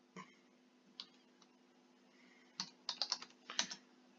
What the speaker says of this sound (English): I have to type it right